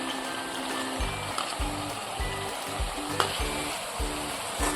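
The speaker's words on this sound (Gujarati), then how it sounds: "હવે આદુ લસણની પેસ્ટ અને મરચાં સતળાઈ ગયા છે" Ginger-garlic paste and green chili paste sizzle loudly up close in hot oil, with a regular rhythm of stirring strokes pulsing under the constant crackle.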